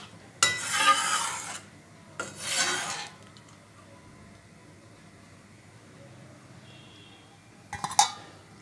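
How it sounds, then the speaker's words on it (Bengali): A spoon scrapes and rasps around a pan of vegetarian khamaloo (yam) and potato curry in two close, rough bursts of stirring, then a quiet pause and a brief clatter at the end. "ভালো করে নেড়ে দিচ্ছি"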